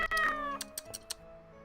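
A cat meows clearly and close up in Corpse Party: Book of Shadows, one drawn-out mew followed by a few short clicks and taps, with no talking.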